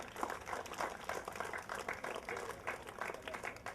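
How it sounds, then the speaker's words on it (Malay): Applause from a group of primary school children and onlookers arriving at the Perlis state assembly complex after an Independence Day bicycle ride, steady and moderately distant, with a faint background murmur. "Berikan tepukan."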